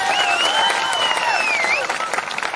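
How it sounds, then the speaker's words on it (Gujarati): Crowd applause and cheering at a Gujarat political rally, loud and continuous with whistles sliding over it, briefly thinning toward the end. "એમના માટે પણ જોરદાર તાળીઓ પાડો."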